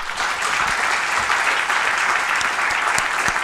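Audience applause closing a conference panel session on equitable growth, dense continuous clapping from a full room, steady and fairly loud throughout.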